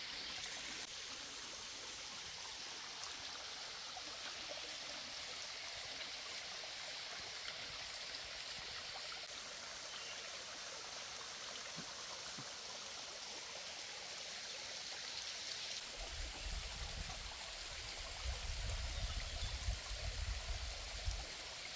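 Water from a small waterfall near Badlapur flows in a steady, broad rushing hiss that continues unbroken throughout, with a slightly deeper rumble toward the end and no talking.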